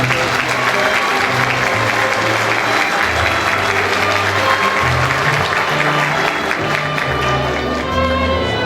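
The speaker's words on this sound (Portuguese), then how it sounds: "Uma salva de palmas aos agraciados." Sustained, loud applause from an audience honoring award recipients at an inauguration ceremony for a board of directors, steady clapping throughout with a low musical tone underneath.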